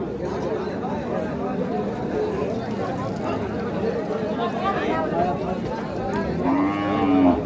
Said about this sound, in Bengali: এই যে এখানে 3টা গরু।